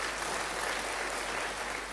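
Steady congregational applause fills a church service, an even wash of many hands clapping at moderate volume throughout.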